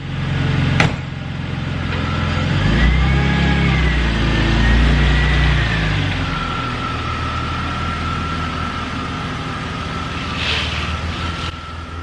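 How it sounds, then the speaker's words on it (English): A car fitted with new wheels idles and pulls away for a test drive, its engine rumbling steadily up close, then settling into a smoother hum with a faint whine. "now I'm gonna just take it out, go for a ride, make sure nothing's rubbing or anything like that"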